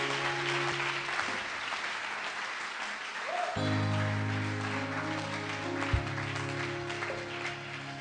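A church congregation breaks into sustained applause, a dense wash of clapping that swells midway and carries on with music and a faint voice underneath.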